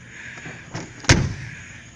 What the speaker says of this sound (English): Man, listen to those doors shut.